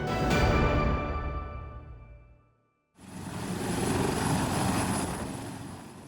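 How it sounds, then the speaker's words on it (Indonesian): A Royal Malaysian Army helicopter landing at a border post in Nunukan, its rotor and engine roaring loud and close, dropping to a brief silent gap in the middle before the steady whine and thrum resume. "Helikopter milik tentara Diraja Malaysia ini mendarat di pos Simenggaris, Desa Sekaduyan, Nunukan."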